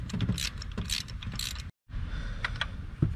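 A hand ratchet clicks in quick bursts while tightening spark plugs on a 2014 Dodge Ram 1500, close and crisp, with a brief silent pause midway before another run of clicks.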